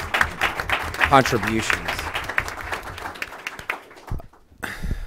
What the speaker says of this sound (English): If you could give them a quick round of applause